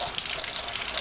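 Warm water runs from a tap in a steady, close, broadband splash during the hand-washing of a Pagani Huayra show car, with no voices.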